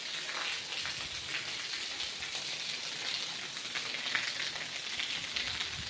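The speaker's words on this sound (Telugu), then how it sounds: "చూడండి ఎలా ఉంది, బాగా ఫుల్గా పడుతుంది వర్షం" Heavy rain during a cyclone falls on a rooftop terrace as a steady, even hiss of countless drops. It sounds close and continuous, without thunder or voices.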